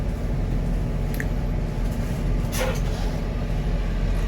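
A Kuningan intercity bus sits close by at Kalideres terminal, its engine idling in a steady, loud low rumble with a brief hiss of air around the middle.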